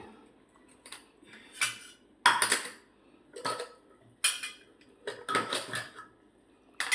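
Cooked bottle gourd and chana dal curry is stirred inside a pressure cooker, producing irregular metallic clinks and scrapes of a spoon against the pot, close and fairly loud, with quiet pauses between.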